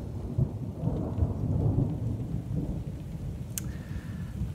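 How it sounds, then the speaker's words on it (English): A thunderstorm with heavy rain on top of a mountain: dense rain hisses steadily while thunder rolls and swells in the low end, and a sharp brief crack cuts in near the end. "It's really raining now."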